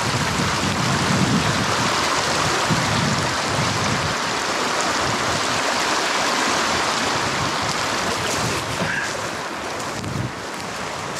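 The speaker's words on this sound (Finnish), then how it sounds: "aika vuolaita tämmöset pienet purot nyt" Small streams swollen after heavy rain rush in the wild, a loud, constant broadband roar of flowing water that stays close and steady throughout, with some wind noise.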